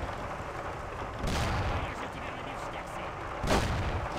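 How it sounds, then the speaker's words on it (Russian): Gunfire in the video game Mafia: The City of Lost Heaven, in a farm area: two distant, muffled booming shots rumble under a quiet background hiss. "Кто-то в кого-то там стреляет."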